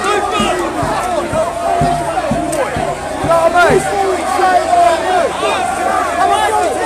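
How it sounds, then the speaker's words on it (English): A loud crowd of protesters, surrounded by police in Hyde Park, shouts and clamours continuously nearby, with voices overlapping in a dense, agitated din. "as you can see the crowd's on the other side of me"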